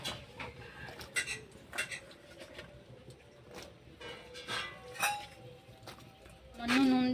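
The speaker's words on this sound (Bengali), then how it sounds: "এবার কচুর লটিগুলো দিয়ে দেবো" Taro stolons go into a pan of water set to steam, bringing a series of light clinks and clatters of pan and utensils close by, with a louder scraping rattle near the end.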